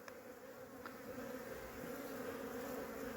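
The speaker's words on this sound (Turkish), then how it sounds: "Ve şunu görüyorsunuz arılar tamamen çıkmış durumda." Honeybees buzz steadily in a dense, droning swarm at the hive after a liquid oxalic acid treatment at 11 degrees, close and continuous, with no voices.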